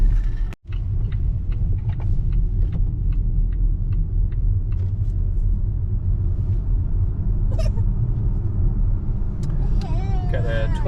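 A car drives along a road with a steady close rumble inside the cabin, continuous and unbroken apart from a brief dropout near the start, with occasional light clicks and a voice heard toward the end.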